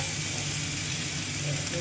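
Steady, close sizzling of food frying in butter in a kitchen, a dense crackling hiss that holds evenly throughout.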